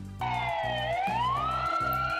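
A toy fire truck's electronic siren wails close by, rising and falling in a smooth sweep over a repeating low buzzing pulse.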